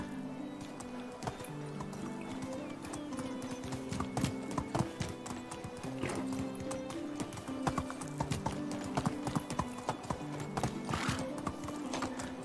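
Horses and foals in the medieval village-building game Medieval Dynasty: continuous clip-clop of hooves with neighs and whinnies over a background music bed, no talk.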